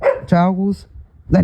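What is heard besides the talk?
dog barking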